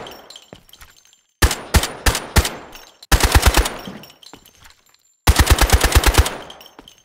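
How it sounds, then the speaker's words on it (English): A G3 rifle fires full auto in the video game Delta Force: a few lighter shots, then three loud, close bursts of rapid gunfire separated by short silences, with no talking. "I'll show you what full auto looks like."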